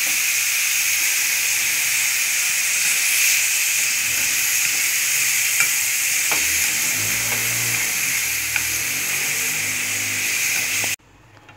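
Pork stir-fries hot in a pan, a steady close hiss of sizzle and steam with a few soft utensil clicks, cutting off abruptly near the end, with no talk.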